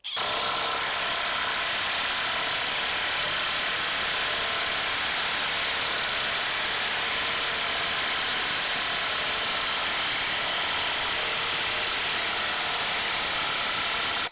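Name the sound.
Bosch impact driver driving a 3/8 inch, 8-inch long fastener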